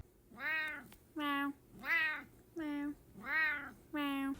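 A cat meows six times in a steady back-and-forth pattern, each call clear, close and moderately loud, with nothing else around them.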